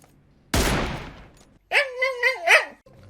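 A single loud sniper rifle gunshot in a video game cracks and fades, followed after a pause by a short run of wavering, tonal electronic sounds.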